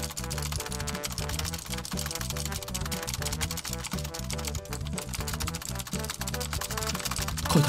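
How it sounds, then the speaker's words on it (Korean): Rapid, dense clatter of a computer keyboard being hammered nonstop, loud and close, keystrokes blurring into a continuous rattling stream with a brief louder burst at the end. "무산소 키보드 질."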